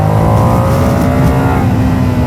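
A Ducati Panigale V2S twin-cylinder motorcycle engine holds a loud, close, steady high rev, its droning tone unbroken from start to finish, with no voices.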